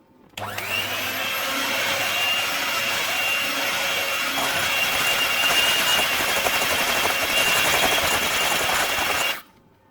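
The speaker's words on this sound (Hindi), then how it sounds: "मज़ीद हम इसे आधे मिनट के लिए और ब्लेंड करेंगे।" An electric blender whirs loudly and continuously for about nine seconds, mixing a custard vanilla ice cream mixture, starting abruptly and cutting off sharply at the end.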